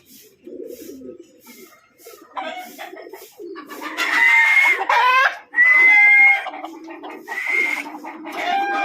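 Racing pigeons returning home after a rainy training flight coo and call close by, with soft repeated coos layered over bird flutter and faint background noise; no clear talking.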